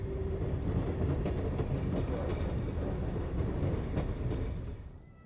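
An unrefurbished SNCF train in red and cream livery runs at Amiens station in France, a close, rumbling roll with clattering wheel beats that fades away at the end.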